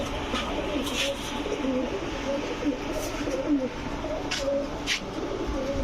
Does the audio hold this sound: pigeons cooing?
yes